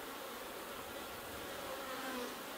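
Honeybees hum and whine in a steady, dense drone around an opened hive during a split inspection, close and continuous, with individual bees rising in pitch as they fly past.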